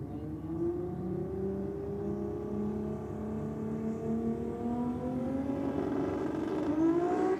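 A Wheel and Tyre Kingdom sponsored drag race car from Mawson Lakes, South Australia, revs its engine at a drag race meet, a loud continuous roar that climbs steadily in pitch and stays close and unbroken throughout.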